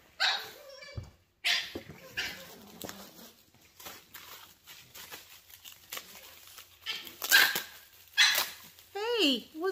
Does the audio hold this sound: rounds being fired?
no